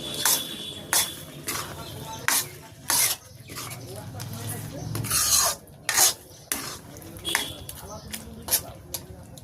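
Metal spoon scraping and stirring a thick beetroot and fish head curry with ground cumin in a pot, with repeated rasping strokes and clinks in an irregular rhythm, fairly close.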